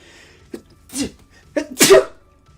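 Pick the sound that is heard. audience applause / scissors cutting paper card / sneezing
sneezing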